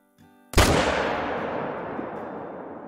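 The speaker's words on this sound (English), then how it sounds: "what a perfect shot" A single loud, sharp rifle shot at a buck roughly 380 yards out in the hunting video game Call of the Wild, followed by a long rolling echo that slowly fades, with quiet ambience before the blast.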